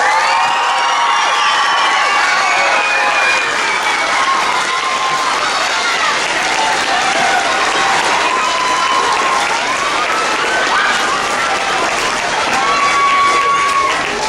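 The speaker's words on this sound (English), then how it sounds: "Give them all a round of applause." Applause and cheering fill a school awards ceremony for kindergartners: a loud, continuous roar of clapping with whoops and children's shouts layered over it, sustained and steady for the whole stretch.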